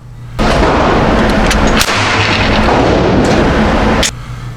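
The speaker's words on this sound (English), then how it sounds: "as soon as I released the bolt, that was a live round that was in there" A live rifle round fires as the bolt is released with no magazine fitted, the gases blowing out through the magazine well. One loud, close blast rings out and sustains with a heavy roar for several seconds before cutting off.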